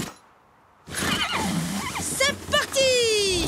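A cartoon horse gives a loud, bright neigh near the end, a rising then falling whinny. It follows a burst of lively animated voices and sound effects.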